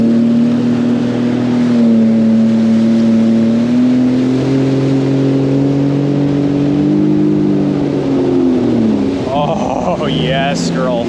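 A Sea-Doo FishPro Sport 170 jet ski with a Rotax engine during break-in, its motor droning loud and close at steady revs, then rising and falling as the throttle changes near the end.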